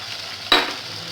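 Chicken pieces sizzling in a pot on the stove as chopped capsicum is tipped in, giving a sudden brief burst of frying hiss and stirring that settles back into a low simmering crackle.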